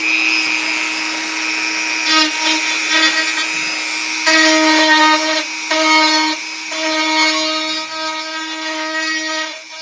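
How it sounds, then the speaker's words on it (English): A Dremel rotary tool grinds at the end of an aircraft wing spar, a high whining tone that rises and dips in pitch as it bites in short bursts, close and loud. "Let me get a Dremel."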